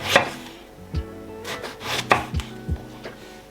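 A knife cuts an aubergine into thick slices on a board, giving about half a dozen distinct, close chopping knocks at an uneven pace, with no voices.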